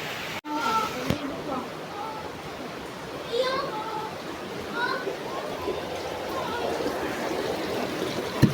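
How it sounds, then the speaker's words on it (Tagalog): Light, steady rain patters and trickles outdoors after an earthquake, a continuous soft hiss throughout, with children's voices and talk heard over it. "Ulan na naman dito"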